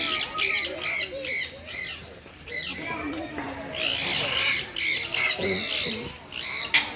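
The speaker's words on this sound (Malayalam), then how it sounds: "ബ്ലൂ ആൻഡ് യെല്ലോ മാക്കോ, മക്കാവു തത്ത" A blue and yellow macaw parrot squawks in a series of harsh, loud, raspy calls, several in quick bursts with short pauses, over a faint background murmur.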